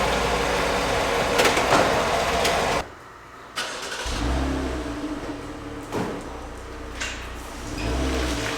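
A car engine cranks and catches after a brief pause, then idles and rolls into a 28-foot-wide garage with its doors open, the engine note rising and settling with a few louder thumps, close by and without talk.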